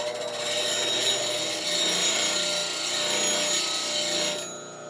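A skew chisel is honed on a sharpening tool with a steady, continuous scraping rasp that swells and fades over a few seconds, close and loud, with no talk, before cutting off abruptly.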